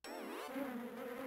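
Cartoonish bee buzzing from WarioWare: Twisted on a Nintendo DS, a sudden close, wavering electronic drone that sweeps in pitch before settling into a steady buzz, with no speech.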